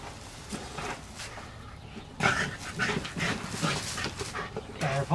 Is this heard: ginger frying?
no